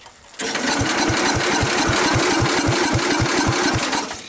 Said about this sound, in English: It's making excessive noise out the exhaust.